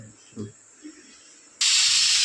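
A loud, steady hiss of steam bursts in abruptly and continues as a pressure cooker cooking rice vents, after a quiet stretch with a few faint voice sounds.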